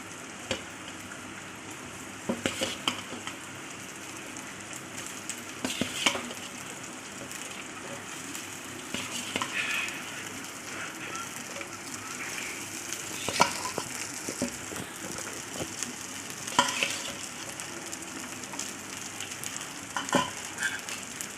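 Rice is stirred into tomato gravy in a pan, giving a soft continuous sizzle with intermittent scraping and clinking strokes of the spoon, fairly quiet and close, with no talk.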